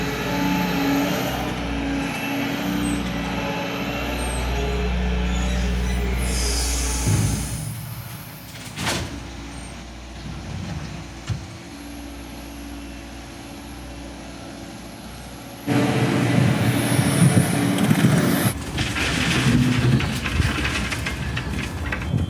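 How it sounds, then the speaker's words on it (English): Heavy loading machinery, a loading shovel and an LH60, working at night to fill train wagons, with droning diesel engines, rumbling and clanking material drops, and a louder burst of engine noise in the final section. "the loading shovel is going to take the material from the pile over there and bring it here so the LH60 can continue to load"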